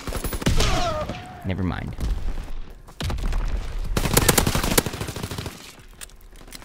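Rapid bursts from a Holzpistole Heroic Variant machine pistol in Call of Duty WW2 multiplayer, loud repeated shots in clustered volleys with other battle noise, broken by a short pause, with someone talking briefly over it.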